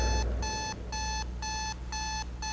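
An electronic alarm clock beeps loudly in five evenly spaced bursts of rapid high tones, close and clear with no voices.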